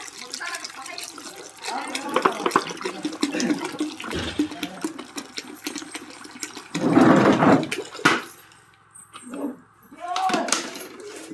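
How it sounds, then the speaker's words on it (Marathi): About five litres of water is poured into a container as part of a crop-use preparation. The water runs and splashes in bursts, loudest midway, while a person talks throughout. "आता त्याच्यामध्ये राहिलेलं 5 लिटर पाणी टाकून घ्यायचं।"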